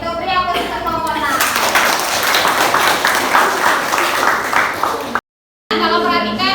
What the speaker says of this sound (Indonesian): beri aplaus untuk kelompok 6